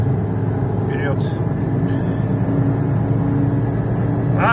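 A Lada Niva Travel engine running on 95 petrol pulls steadily under acceleration, a continuous low drone heard from inside the cabin with someone talking over it.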